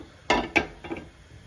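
A wok is set down on a stove, giving two sharp metallic knocks in quick succession and a softer third clunk, close and clear in a quiet kitchen.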